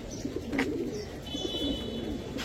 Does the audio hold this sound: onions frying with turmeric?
no